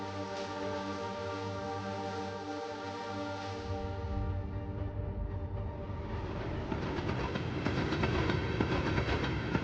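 Train running on the Trans-Mongolian Railway out of Ulaanbaatar, a steady low rumble of wheels and carriages that grows rougher and louder with rattling clatter in the second half.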